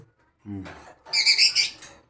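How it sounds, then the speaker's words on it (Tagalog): Short bursts of bright, high chirping from small birds, close by, after a brief low voice at the start. "Dami ng ibon ni Papa Obas TV"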